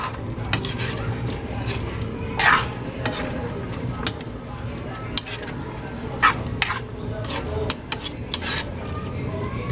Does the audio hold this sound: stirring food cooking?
yes